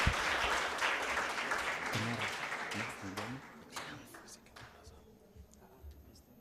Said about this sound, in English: A round of applause as we wait for...